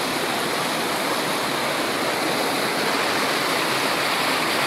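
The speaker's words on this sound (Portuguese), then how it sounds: "Aqui a água continua descendo e vai se encontrar" Water pours steadily down the Antônio Monteiro waterfall near Pocinhos do Rio, a dense, continuous rushing roar that holds evenly throughout with no voices.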